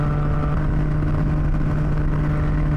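Exhaust of a Triumph Tiger 660 sport-touring motorcycle, a loud, steady low drone with a constant engine hum and no pauses, heard without talk.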